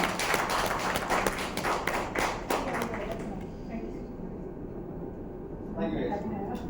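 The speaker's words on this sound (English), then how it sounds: "Another huge round of applause for all of them." Conference audience applauding a panel, a burst of clapping for about three seconds that fades into quieter room noise with a voice near the end.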